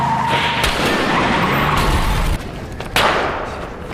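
A car skids hard while trying to escape, its tires squealing in a loud, sustained screech over a roaring engine, ending with a sharp bump before fading slightly.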